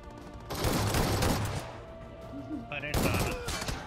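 Shotgun blasts and other gunfire crackle in a battle royale video game, arriving in short bursts with clattering game effects layered over them.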